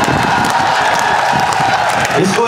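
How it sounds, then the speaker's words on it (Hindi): Indoor audience at an event applauds continuously, a dense wash of clapping with some crowd noise and cheering mixed in, steady and fairly loud throughout. "क्या कम ताली बजा रहे हो तुम भाई"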